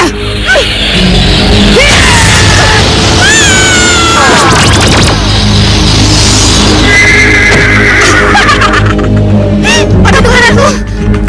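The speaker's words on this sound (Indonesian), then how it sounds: "Lebih baik panggil saja dia Paduka Kuda." A horse neighs in a dramatic TV scene, drawn-out whinnying cries rising and falling amid crashes and a busy soundtrack, loud and close, with voices speaking around it.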